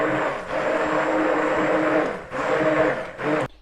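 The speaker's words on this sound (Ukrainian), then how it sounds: "Тепер це все теж збиваємо" Electric hand mixer whisking eggs and batter for a lemon pie, a steady close motor whir with short dips as the beaters shift, stopping abruptly at the end.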